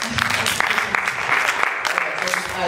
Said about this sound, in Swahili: Pigie James makofi.